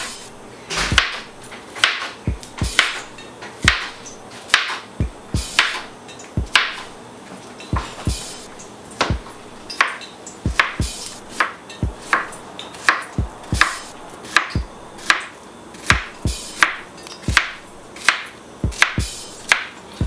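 Plantains for mofongo are sliced thin with a knife on a cutting board, producing a long series of sharp, close chopping taps in a fairly even rhythm, each cut a crisp knock against the board.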